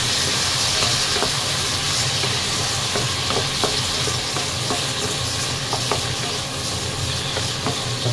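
Tomatoes sautéing with light-brown garlic in a pan for a home-style vegetable stir-fry, a loud continuous hissing sizzle with occasional spoon clicks and scrapes, close up and without speech.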